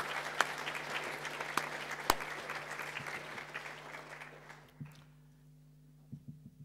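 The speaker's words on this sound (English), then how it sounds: "Could we please give all our departing staff a huge round of applause?" Applause for departing staff at a school senior prize-giving, a moderately distant hall full of clapping with a few sharp claps standing out, thinning and tapering off toward the end.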